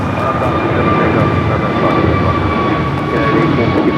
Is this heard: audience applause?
no